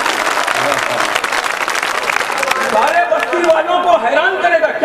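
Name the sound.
audience applause at a poetry mushaira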